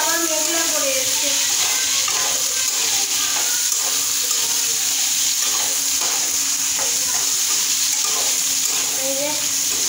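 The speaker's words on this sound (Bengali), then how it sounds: "এই যে ফুলকপিগুলো ভাজা হয়ে গেছে, এবার শিমগুলো দিয়ে দিচ্ছি।" Cauliflower florets fry and get stirred in a home kitchen pan, a steady, close sizzle with scraping stir strokes throughout and no talk over it.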